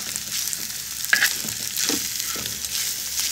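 Meat sizzles as it sautés in a pot, a close steady frying hiss broken by a few stirring scrapes and clinks.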